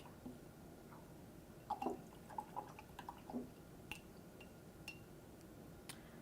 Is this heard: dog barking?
no